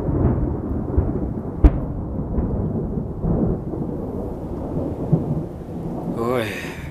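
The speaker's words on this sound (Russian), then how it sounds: "Ой, первый гром в середине лета." Midsummer thunder rumbles low and continuous over steady rain, with a sharp crack early on and further rolls, loud and enveloping outdoors.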